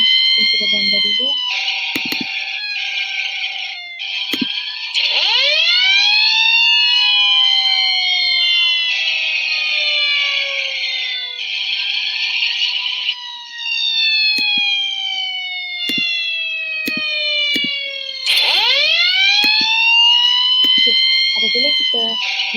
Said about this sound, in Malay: Nanti kita dengar bunyi sairan jentera bomba dulu.